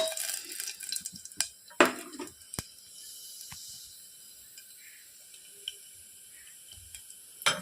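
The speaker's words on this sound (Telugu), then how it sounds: "జీలకర్ర మినప్పప్పు ఇందులో వేసుకోవాలి" Cumin and urad dal dropped into hot oil in a pressure cooker, soft sizzling and hiss with a few sharp clinks and scrapes of utensils against the pot, fairly quiet and close.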